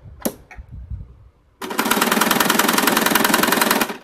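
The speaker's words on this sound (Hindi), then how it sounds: "एक बार फिर से घुमा के भी सिल देते हैं" An electric sewing machine runs steadily, stitching the fabric corners of a bag made from leftover clothes, a loud close rapid mechanical chatter after a few handling bumps.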